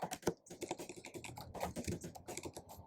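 Fingers type on a computer keyboard while entering text into an Excel spreadsheet, producing quick, irregular, close keystroke clatter that comes in short bursts with no voice.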